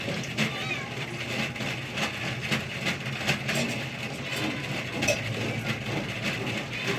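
Cats meow repeatedly near an outdoor cooking spot where eggplant torta is made, their cries blending into a busy, noisy background with a low engine-like hum.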